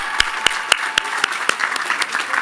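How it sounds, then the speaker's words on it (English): A college commencement crowd claps at a steady moderate level, with sharp individual claps standing out at a regular, almost rhythmic pace. "How about a round of applause for the men and women working with buildings and grounds?"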